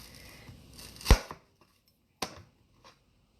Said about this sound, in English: the onion, I'm going to just cut in half and put that in whole